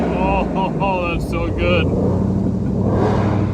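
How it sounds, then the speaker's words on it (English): A 2020 Ford Mustang Shelby GT500 revs hard in a tunnel with both shift paddles pulled, its engine note climbing and echoing off the walls while a man briefly exclaims over it. "Of course, got to pull both paddles and let it rev."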